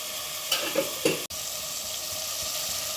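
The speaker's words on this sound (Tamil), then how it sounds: "இதை கொஞ்சம் வதக்கிட்டு நம்ம காளான் போட்டுடலாம்" Masala for mushroom biryani sizzles steadily in a pan, a continuous close frying hiss broken by a few brief stirring scrapes and one sharp clack near the middle.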